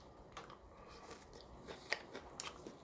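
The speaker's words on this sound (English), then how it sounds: "let's do the old chew test" Someone chews a cooked white bean in a kitchen while making white bean soup, giving faint, close crunching and mouth sounds over a low room hiss, with no talking.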